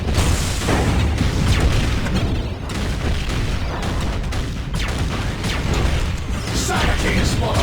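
Grenade blast in the Warhammer-style video game Dark Prophecy during a long siege, buried in a dense, continuous roar of battle noise with booms and gunfire throughout.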